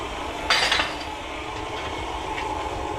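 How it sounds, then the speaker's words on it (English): Flour, baking powder and salt being stirred together in a bowl for crumb cake, a continuous soft scraping swish with a brief louder clink of utensil against the bowl near the start. "Just going to mix it around a little bit just so it's combined"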